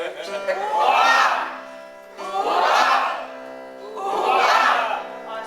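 A festive gathering's crowd shouts a cheer together three times in rhythmic succession, each rising and fading, with voices loud and close in a room.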